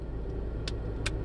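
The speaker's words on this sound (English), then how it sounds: "I'm in the car." Steady low road rumble from inside a car out running errands, a constant engine and tyre drone with two brief faint high clicks or rattles near the end.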